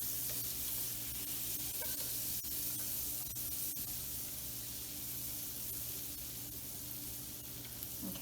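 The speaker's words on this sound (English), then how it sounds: "Okay, I have a hot pan here, and the first step is to melt the butter." Butter melting in a hot pan for a French béchamel sauce, giving a steady, faint sizzling hiss that runs continuously without pause, with no talking.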